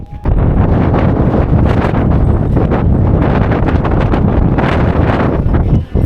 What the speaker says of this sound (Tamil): காற்று ஹெவியாக அடிக்குதுங்க,